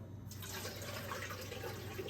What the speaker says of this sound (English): I'm going to put some water, then I'm going to sit the jars in there